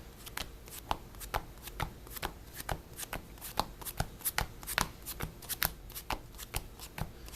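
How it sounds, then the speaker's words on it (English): Playing cards from a Danger Thunder Guardragon trading card deck shuffled by hand, a steady run of crisp riffling and snapping with brief pauses between passes, close and fairly quiet, with no talking over it. "I'm going to shuffle up and do some test hands for you guys."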